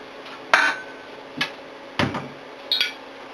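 Metal pans clank and knock together in a kitchen as they are moved around, four separate sharp clatters spaced about a second apart, close and with no talking.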